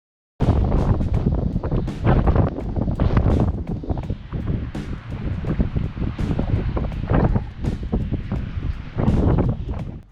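Strong, chilly wind sweeps along the Atlantic City boardwalk beside the ocean, roaring and buffeting close to the microphone in repeated sharp gusts for about ten seconds, with no talking.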